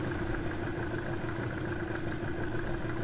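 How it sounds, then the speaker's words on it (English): A boat engine idles steadily in the Arma 3 video game, a low mid-pitched drone that stays even and moderately loud for a few seconds with no talk. "I can hear your boat all the way over here."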